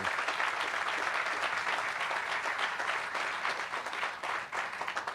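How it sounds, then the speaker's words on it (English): Steady, full applause from a gathered crowd at a community event for a sports and learning complex, continuous clapping that holds even and slightly thins near the end. "That's worth a round of applause too."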